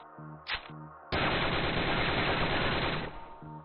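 Golden AK fired in a VR shooting game: a sustained automatic burst of about two seconds, loud and close, preceded by a short sharp shot and some clicks, ending in a fading tail.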